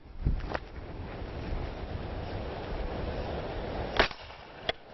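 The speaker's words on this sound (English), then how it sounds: "Now we're going to let you listen to it with the suppressor on it using the same gun" Rifle fired with a Dakota suppressor: a muted crack early on, then a steady wind-like background, followed by a sharper suppressed shot near the end and a brief final report.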